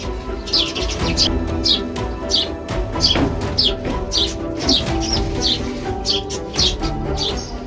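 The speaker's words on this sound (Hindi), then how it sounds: "सूरज निकलने से पहले ही अपनी चहचहाट से चहल पहल करने वाली चिड़िया" Small birds, house sparrows, chirp repeatedly in short bright bursts over a steady murmur of background noise, a busy overlapping chatter with no voices.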